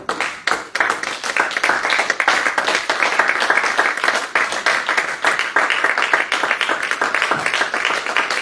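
Church congregation clapping steadily in unison, a loud rhythmic applause that fills the room without break, with faint voices mixed underneath.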